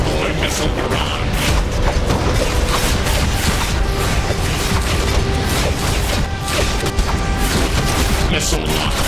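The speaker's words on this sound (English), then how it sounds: "Deploy missile barrage." Missile barrage explosions in the video game DC Universe Online, fought against Area 51 tier 1 bosses, form a dense, continuous rumble of booms and crashes lasting the whole stretch, loud and unbroken, with game voices underneath.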